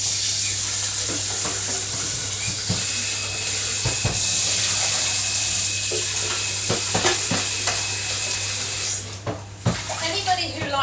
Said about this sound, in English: Now what I'm going to do is wash out my soup kettle.